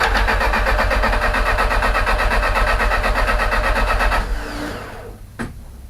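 Car engine with a newly fitted tubular exhaust manifold on a G25 660 spins over steadily and loudly with a rapid, even pulse for about four seconds, then winds down and stops, leaving a brief clunk before quiet.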